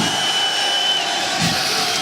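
A packed arena crowd at a Counter-Strike final between SK Gaming and FaZe cheers for FaZe in a steady, loud roar with scattered shouts.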